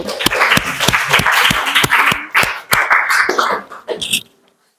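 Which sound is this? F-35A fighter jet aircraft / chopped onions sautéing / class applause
class applause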